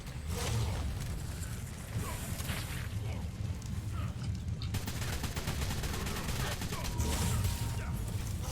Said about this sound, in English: Yes, that's the assault rifle.